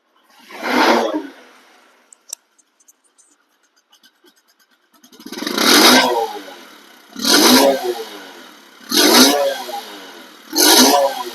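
A 2020 Bajaj Discover 125cc motorcycle engine starts and is revved in several loud, close bursts, each rising and falling, with short quiet gaps and small clicks between them.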